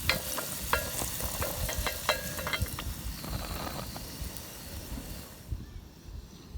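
Sugar beets fry in oil that has thickened from their sugar, crackling and popping in sharp close bursts over a continuous sizzle that fades toward the end, with no talking.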